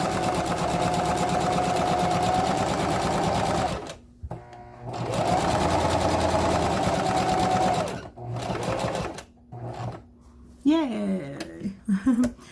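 A Singer sewing machine sews a handbag in two long, loud runs separated by brief pauses, followed by a few short stitch bursts. A person talks and makes small vocal sounds near the end.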